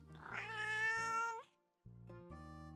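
A cat character meows in the video game Promise Mascot Agency: one long, rising and falling meow, then a brief gap and a second shorter meow, clear and close with no talk over it.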